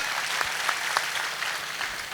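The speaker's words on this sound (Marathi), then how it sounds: "लक्ष्मण नवले सर यांच्यासाठी पण एकदा जोरदार टाळ्या द्या" An audience at a public speech claps together, a dense, even burst of applause with a few sharper individual claps standing out, heard close and without talk.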